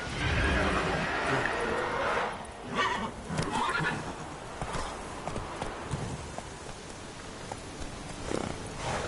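Geralt's horse Roach in The Witcher 3 whinnies loudly near the start, then hooves clip-clop steadily through the rest over a busy game backdrop.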